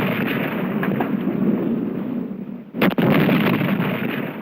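A funeral gun salute fired outdoors on an autumn afternoon, one sharp blast cutting through a steady loud background rumble, heard close and alone.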